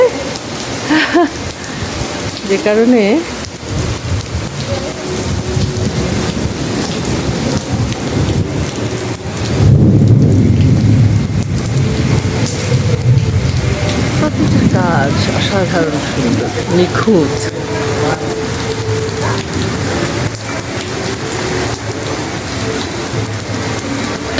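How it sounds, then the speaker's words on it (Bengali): Heavy rain pours steadily outside a large Hindu temple in New Jersey, with deep thunder rumbling strongly near the middle; people talk over the continuous downpour throughout. "কি বৃষ্টি বাজ পড়ছে"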